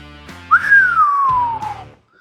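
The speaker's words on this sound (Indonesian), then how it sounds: "Wiro Sableng bersiul nyaring." A single loud whistle rises sharply, then slowly glides downward for over a second before fading, with low background tones underneath.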